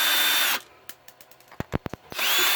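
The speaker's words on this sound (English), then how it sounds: "So we'll take our handy dandy powered screwdriver," A powered screwdriver backs screws out of an RC car body mount: about a dozen short, close whirring bursts of varying length, framed by louder broadband noise at the start and end.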